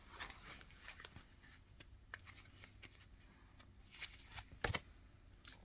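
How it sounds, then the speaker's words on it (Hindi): A card drawn from a deck during a tarot-style reading, soft papery slides and flicks at close range, with a sharper snap near the end, no speech. "मैं लास्ट कार्ड निकालूंगी।"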